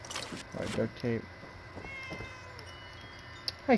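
A cat meows in the video game Fallout 76, three short mewing calls in close succession near the start, with a player talking over the game's background sounds.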